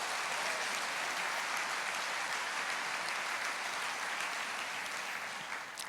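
A church congregation applauds, dense sustained clapping from many hands that holds steady throughout and eases slightly at the end.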